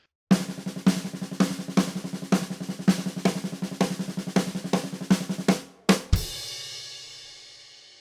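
A snare drum plays a lick from a song at a slow tempo: evenly spaced crisp hits repeating for about five seconds, then a final accented hit with cymbal wash ringing out and fading.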